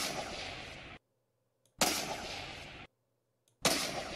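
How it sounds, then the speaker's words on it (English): Three loud bolt-action sniper rifle shots from a Fortnite weapons mod in Minecraft Pocket Edition, each a sharp crack followed by a long rumbling tail and evenly spaced by near silence. "some of the snipers do have different sound effects"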